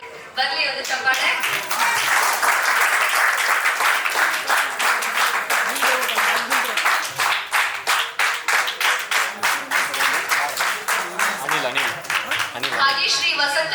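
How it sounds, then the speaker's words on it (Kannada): An audience at a film trailer release ceremony claps in a sustained, even wave of applause, close and full, with brief talking heard at the very start and just as the clapping fades. "ಬರ್ಲಿ ಒಂದು ಚಪ್ಪಾಳೆ"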